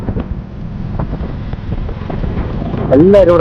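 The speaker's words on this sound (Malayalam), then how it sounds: "ഒരു രക്ഷയില്ലാത്ത കാറ്റ്" Strong wind at Suryanelli in Kerala's hills buffets the microphone with a constant low roar, and faint voices come through underneath.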